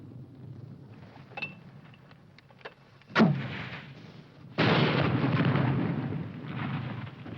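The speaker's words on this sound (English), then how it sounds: "1 machine gun's holding us back" Battle sounds from a classic war movie: a few scattered distant pops, then a heavy blast and a sustained roaring burst of gunfire that rumbles on for several seconds, no talking.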